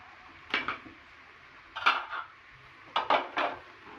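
Fried tempeh and eggplant tipped into a pan and stirred, giving three short bursts of metal utensil clatter and scraping against the pan, spaced over a few seconds with quiet gaps between and no voices.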